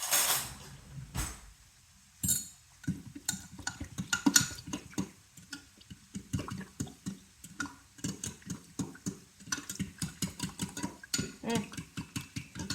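Pepper steak being stirred in a pan, with a utensil scraping and clinking against the metal in quick, uneven strokes, close and moderately loud, alone without talk.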